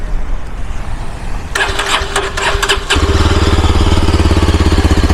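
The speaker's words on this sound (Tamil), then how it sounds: "எக்ஸாஸ்ட் நோட் காட்டிடுறேன் எப்படி இருக்குன்னு." A Yezdi Adventure 2022 motorcycle fitted with a dB killer cranks over and fires up, and its engine settles into a loud, close, steady pulsing idle exhaust note after a short starter whir.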